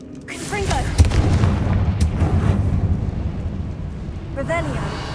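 A loud Confringo spell blast from Hogwarts Legacy lands as a sharp booming burst, and a rumbling roar follows for several seconds while a voice speaks over it.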